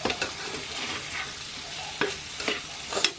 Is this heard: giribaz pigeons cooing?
no